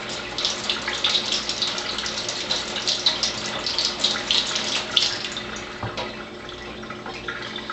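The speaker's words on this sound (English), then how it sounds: "And I'm just kind of rinsing it off here." A vinegar-soaked egg is rinsed under a running tap, with a steady rush and splash of water that continues throughout and eases off slightly near the end.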